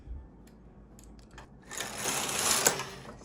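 Knitting machine carriage sliding across needles pushed forward: a swelling, rattling mechanical whir lasting over a second, after light clicks of needles being set by hand, close and moderately loud.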